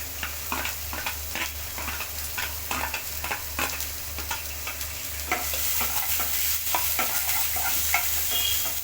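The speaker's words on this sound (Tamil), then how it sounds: "அதையும் சேர்த்து நல்லா வதக்கிக்கலாம்." Onion, green chili and chopped ginger sautéing in a pan while being stirred, a steady close sizzle with rhythmic spatula scrapes and taps that grow a little louder toward the end.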